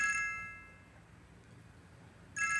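A mobile phone ringtone chiming in short electronic bursts, heard at the start and again at the end with a quiet gap between, fairly soft in an indoor room.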